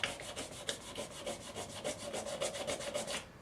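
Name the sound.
rubbing hand guard with 400 grit sandpaper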